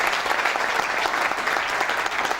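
Steady, dense applause from an audience fills a formal closing ceremony for the EUPOL mission in the Democratic Republic of Congo, loud and continuous with no talk.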